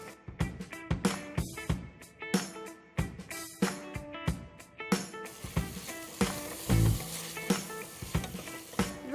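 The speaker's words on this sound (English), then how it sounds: "When this is little translucent, I am going to add in the ginger garlic paste." Ginger garlic paste frying in a pot with sliced onions, a steady sizzle broken by repeated sharp clanks and scrapes of a spoon stirring against the metal, fairly close and continuous with no talking.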